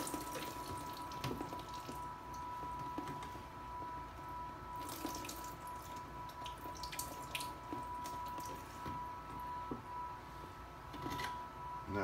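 Clean water is sprayed over mounted Dendrobium orchid plants, giving a faint, steady hiss broken by scattered drips and splashes under a constant low hum, with no talk.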